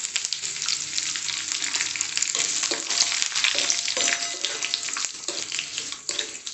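Dried red chili and curry leaves sizzle in hot oil for a village-style brinjal and tomato chutney, giving a loud, steady crackling hiss throughout with no talking.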